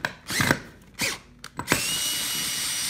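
Short bursts of a power driver with a socket bit backing screws out of a rocker recliner mechanism, three or four close whirs in quick succession followed by a steady hiss.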